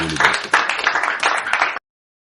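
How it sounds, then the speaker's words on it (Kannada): Applause in a royal court, a burst of clapping from a crowd that starts loud and keeps a steady, dense texture before cutting off abruptly after a couple of seconds. "ದರ್ಬಾರದಲ್ಲಿ ಮೌನ ನಂತರ ಚಪ್ಪಾಳೆ ಧ್ವನಿ"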